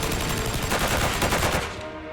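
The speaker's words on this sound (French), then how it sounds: "Permettez-moi de vous présenter la M249 SA, Squad Automatic Weapon" Rapid automatic fire from an M249 SAW light machine gun, a dense continuous rattle of shots that holds loud for about two seconds, then eases slightly at the end.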